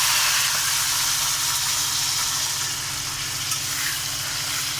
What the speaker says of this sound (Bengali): নেড়ে চেড়ে কষে নেব।